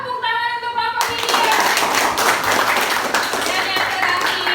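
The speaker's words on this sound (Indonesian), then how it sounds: "Tepuk tangan untuk kelompok ini." A classroom group claps together after a short stretch of speech, dense hand claps filling the space at a steady, lively level for several seconds.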